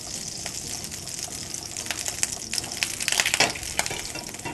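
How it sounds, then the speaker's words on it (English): Butter sizzles and pops in hot oil in a pan, a dense bright crackle with sharp spits that build toward the end, close and with no talking. "the milk solids in the butter are popping"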